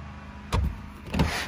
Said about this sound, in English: It's got the electric tailgate.